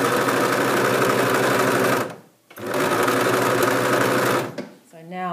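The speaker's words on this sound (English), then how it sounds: "on an overlocker you need to just try and put your fabric so it goes in a straight kind of line" An overlocker stitches fabric in two close, loud, rapid mechanical whirring runs separated by a short pause, after which a voice starts speaking.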